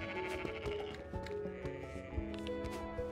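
A ram bleats in the video game Felix the Reaper, a couple of wavering, nasal calls set over a steady, busy bed of game music.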